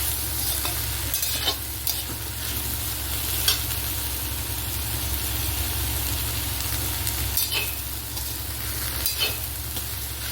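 Okra with onion frying and being stirred in a pan, a steady close sizzle with scraping stir strokes now and then, no voices.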